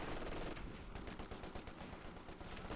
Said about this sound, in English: And of course the LMG firing.